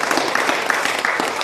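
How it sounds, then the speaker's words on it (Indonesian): Audience applause at a live gathering in Makassar: a steady, dense patter of many hands clapping, fairly distant and even, filling the short moment. "Tepuk tangan."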